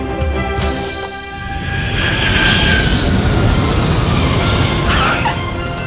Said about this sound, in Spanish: Los aviones nunca dejan de llegar.